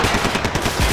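Rapid gunfire from the video game Max Payne 3, a loud continuous burst of shots lasting about a second with no voices.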